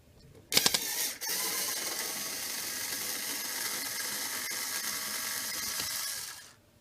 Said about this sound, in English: So we got some screws to take out.